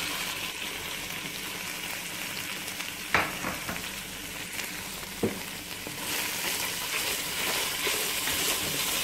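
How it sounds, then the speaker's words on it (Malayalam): Finely sliced large onions sauté in oil in a pan for Thalassery chicken biryani, a steady close sizzle throughout with a few sharp clinks of stirring and the frying growing a little louder toward the end. "ഇത് നല്ലോണം ഒന്ന് സോട്ട് ചെയ്ത് അതൊന്ന് ട്രാൻസ്പെറൻ്റ് ആവണ വരെ ഒന്ന് മൂപ്പിച്ച് കൊടുക്കും"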